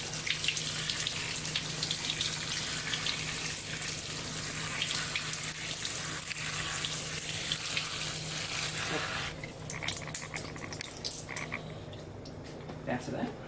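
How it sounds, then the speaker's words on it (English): A kitchen tap runs cool water in a steady, close stream to rinse quinoa, the flow easing and thinning near the end. "cool running water and just let it"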